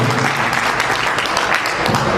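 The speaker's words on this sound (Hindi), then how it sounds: "एक बार आप अपने संगठन के लिए जोरदार ताली बजाइए।" Loud, sustained applause from a large gathered crowd at a Hindu organisation's assembly, dense clapping with no voices over it.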